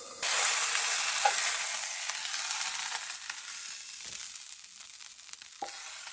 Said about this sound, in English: So I'm just gonna keep cooking the other side on the stove that's already turned off, but still very, very hot.